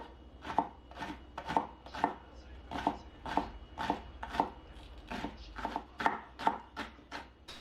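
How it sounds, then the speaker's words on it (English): A knife chops 60 grams of spring onion on a board in a steady run of about fifteen crisp, close strokes, evenly spaced and loud, with no talking. "Chop 60 grams of spring onion."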